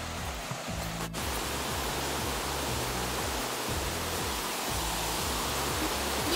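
A steady, dense roar of falling water from a waterfall at Norikura fills the whole clip, broad and constant, with no voices.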